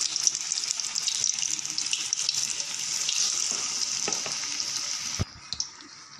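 Onion bhaji batter frying in a small kadai gives a steady, dense sizzle that runs on without a break. It drops off abruptly near the end, leaving a quieter hiss.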